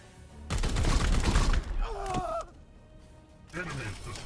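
Gunfire in the Warhammer 40K game Chaos Gate Daemonhunters, a loud rattling volley with heavy low thumps followed by whining electronic effects, and another short sound effect near the end.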